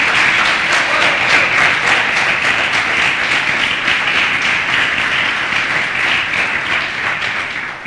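A church congregation claps steadily and loudly, a dense, continuous wash of applause that holds for several seconds before easing slightly at the end.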